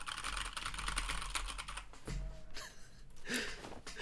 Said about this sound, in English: Listen to how fast I can press these keys.